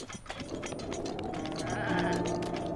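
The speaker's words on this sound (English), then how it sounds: "Except for that big old goat." Goat bleating in The Legend of Zelda: Breath of the Wild on Mount Lanayru, a steady drawn-out bleat heard over continuous game ambience and music, with no talking.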